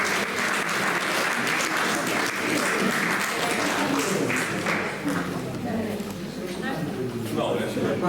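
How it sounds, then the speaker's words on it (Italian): Crowd applause for a poet at a poetry competition, dense continuous clapping throughout with voices and chatter audible underneath. "Un applauso a Antonio, è bello da vedere."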